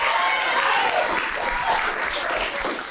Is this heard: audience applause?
yes